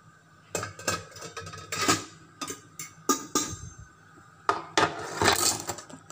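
Metal lid set back onto a pot of shrimp sinigang cooking on the stove, a series of close clanks and rattles in short separate bursts, with a louder clatter near the end.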